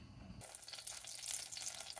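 Butter melting in a pot for fried chicken gives a faint, steady sizzle that starts suddenly after a brief low rumble and continues softly to the end.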